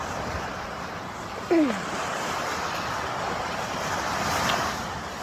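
Sea waves wash along the shore early in the morning, a continuous broad surf hiss with no distinct breaks, and one short sharp sound briefly cutting in near the start.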